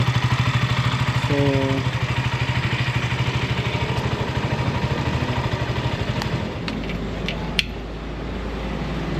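KTM Duke 200 motorcycle with its stock exhaust pipe idling nearby, a steady low throbbing engine note with even pulsing that runs throughout, shifting slightly lower and quieter near the end.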